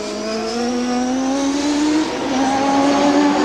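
A CART race car's engine at the Toronto street race screams at high revs, its pitch sliding upward as the car spins, loud and close with a brief drop and recovery.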